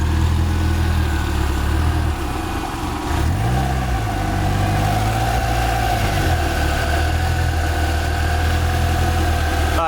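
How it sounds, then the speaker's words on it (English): A car engine idling steadily after start-up, a deep continuous rumble close by with a brief blip of revs midway, then settling back to an even idle; no voices. "So the car turned on. We were just talking about how quiet it is."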